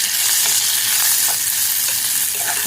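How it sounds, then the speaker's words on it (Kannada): Toor dal dry-roasting in a pan gives a steady close hiss and crackle, with faint scraping from stirring and no talk. "ಅರ್ಧ ಕಪ್ಪಷ್ಟು ತೊಗರಿಬೇಳೆ ಹಾಕೊಂಡಿದ್ದೀನಿ ಇದು ಸ್ವಲ್ಪ ಹುರ್ಕೊಂಡ್ಬಿಟ್ಟು"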